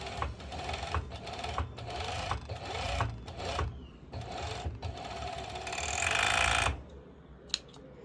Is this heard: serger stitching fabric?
yes